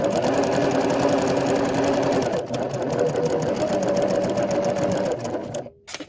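A sewing machine runs steadily and loudly while stitching a small zipper pouch, a continuous whirring drone that holds for about five seconds before stopping abruptly near the end.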